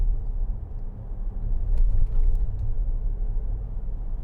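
A 2011 Land Rover Discovery 4 3.0 SDV6 drives over a very bumpy road, heard from the cabin as a steady, heavy low rumble with a few faint knocks and rattles partway through.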